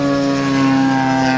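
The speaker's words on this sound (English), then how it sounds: "So you can hear the airplanes flying by" Radio-controlled model airplanes fly at an R/C airplane field day, making a steady, fairly loud propeller buzz. The engine hum holds a constant pitch throughout.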